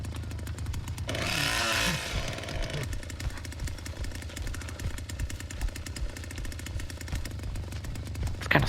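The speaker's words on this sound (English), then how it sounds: "It kind of sucks that I have to start the chainsaw to actually be able to attack anybody" A chainsaw starts in the video game The Texas Chain Saw Massacre: a loud revving surge rises briefly, then settles into a steady, rough engine drone that runs throughout.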